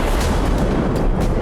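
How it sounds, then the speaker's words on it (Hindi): A nuclear test explosion in the Chagai hills of Balochistan, Pakistan, makes a loud, dense, continuous roar that fills the brief moment without break. "एटमी धमाके से पूरा पहाड़ थर्रा उठा था"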